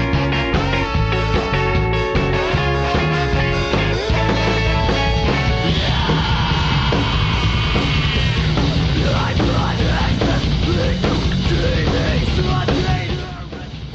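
Ska core music by a Connecticut band, playing loud and dense with driving drums, distorted guitars and horns or shouted vocals continuing throughout, no talking over it.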